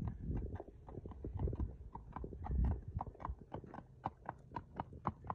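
Horse hooves clip-clop at a steady walking rhythm on a hard surface, close by, the footfalls growing crisper and more distinct toward the end.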